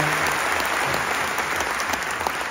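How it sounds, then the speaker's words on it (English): Warm, sustained applause from a large audience at the Barbican Theatre in London, dense continuous clapping throughout, heard close with no talk over it. "you can give him a round of applause"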